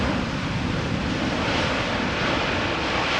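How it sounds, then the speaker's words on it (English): An airliner landing at Amsterdam Schiphol with a touch of reverse thrust: a steady, broad engine roar and rush, fairly loud and continuous throughout, with no voices. "Sounded like a teensy bit of reverse thrust being applied"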